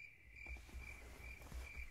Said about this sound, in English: You hear that? Nothing but crickets.